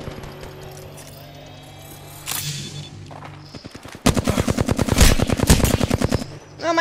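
Rapid bursts of gunfire from the video game Apex Legends, loud and close, with an earlier short volley followed by a sustained automatic string of shots near the end.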